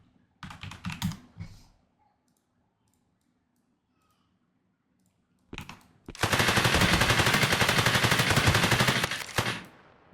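Gunfire in a third-person shooter game built in Unreal Engine 5: a short early volley of rapid shots, a pause, then a sustained loud automatic burst of about four seconds.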